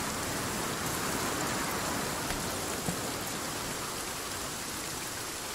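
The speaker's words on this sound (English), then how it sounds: "It's rain. Rain is loud." Heavy rain in the survival game Sons of the Forest, a dense, loud, continuous hiss of drops pattering on surfaces, steady and unbroken with no voices.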